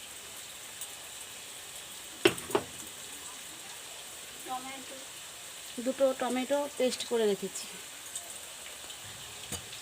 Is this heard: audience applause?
no